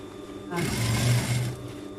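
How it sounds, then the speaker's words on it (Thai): A sewing machine runs in one short burst stitching along a fabric edge while folding an armhole facing on a blouse, a steady whirring hum over faint room noise. "แล้วก็เย็บเย็บริมริมนะคะ เย็บล้มตะเข็บ"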